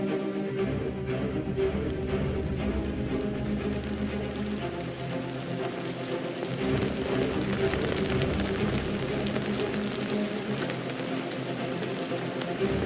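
Heavy rain falls outdoors in nature as a dense, continuous patter on surfaces, steady and enveloping throughout with no clear pauses.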